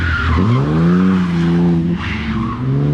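Drift cars slide around a track at an after-work drift event, with a loud, sustained tire squeal that rises and wavers over the engine's howl, close and continuous, and a second screech joins near the end.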